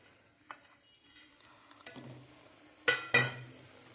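Dry fruits are dropped into hot ghee in a pan for carrot halwa, bringing scattered soft ticks and light clatters, then a couple of sharper metallic scrapes and clinks from a spoon stirring, close and moderately loud.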